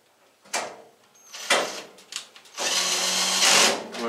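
A power drill spins in reverse against a screw on a Whirlpool WED85HEF dryer, with several short whirring bursts followed by a longer sustained run, close by and with no talk.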